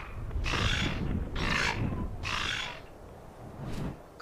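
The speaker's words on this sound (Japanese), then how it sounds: "カラスみたいな声鳴くね" A large flying creature, a Quetzalcoatlus pterosaur in the ARK Mobile video game, gives crow-like calls: three loud, harsh squawks evenly spaced about a second apart, then a shorter fourth. There is no talking.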